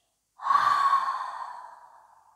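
A single long exhale through the mouth during a yoga breathing exercise, a close, airy rush that starts abruptly and fades out over about two seconds, with no talk.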